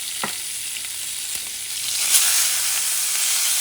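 Sofrito and onions sizzle in a little oil in a pan for arroz con salchichón, a steady close hiss with a brief stir clatter, rising slightly louder toward the end.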